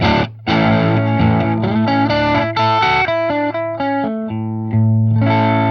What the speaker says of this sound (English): Now, with the two humbuckers in the middle.